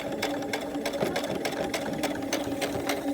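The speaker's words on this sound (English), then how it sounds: "if I hold the fabric down really tight, and I put the presser foot back down" A sewing machine stitches fabric and elastic for a face mask, a fast rhythmic run of needle clicks over a mechanical hum, close and steady throughout.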